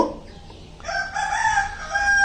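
A desi rooster on a country chicken farm crows close by, one loud, drawn-out cock-a-doodle-doo rising after a brief quiet start and holding to the end.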